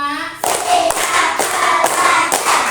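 A class of students claps together in a counting routine, a steady series of sharp group claps about every half second after a spoken lead-in, close and fairly loud, with chanting voices mixed in.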